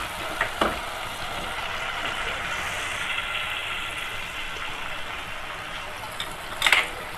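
Biryani ingredients frying in a pan, a steady soft sizzle running throughout with a few brief clinks of a utensil against the pan near the start and end.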